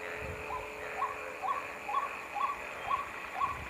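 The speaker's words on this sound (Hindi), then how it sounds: "एक आवाज़ मेंढकों की आ रही है, दूसरी आवाज़ जो आ रही है वो पपीहे की है।" A steady chorus of frogs croaks in the background while a pied cuckoo calls repeatedly at an even pace, each call a short rising note, moderately near.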